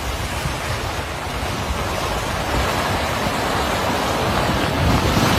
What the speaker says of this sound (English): extreme winter cold has turned the fast-flowing river into a powerful icy surge